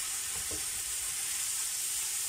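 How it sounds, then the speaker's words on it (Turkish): Minced meat frying in a pan, a dense, steady, close sizzle with a faint stir near the start, no voices. "Kıymamız iyice kavrulmaya başladığında"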